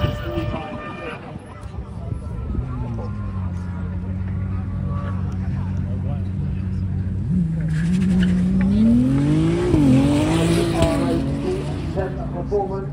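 Racing cars at a supercar festival lining up, engines droning then revving and climbing in pitch with tyre squeal and rising intensity later, loud and close, with a commentator talking over it.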